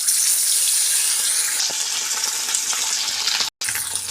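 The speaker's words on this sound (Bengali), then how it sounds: "এরপর আমি একে একে সমস্ত মাছগুলো ভালো করে ভেজে নেব।" Pabda fish frying in hot oil in a kadai, a steady loud sizzle and crackle throughout with a few soft clinks, briefly cutting out near the end before the sizzling resumes.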